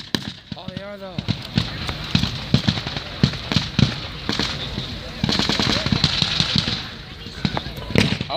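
Machine gun fire at a WWII battle reenactment, outdoors: bursts of sharp rapid shots cracking at mid distance, some clustered and some spaced, mixed with other gunfire while people talk nearby.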